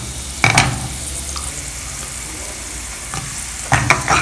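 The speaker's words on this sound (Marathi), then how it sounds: "तेल कढलं की लसूण घालून घेऊया." Garlic frying in a small amount of hot oil as a tempering for restaurant-style chicken chilli, a steady sizzle broken by a few brief bursts of stirring and clatter near the start and end, with no talking.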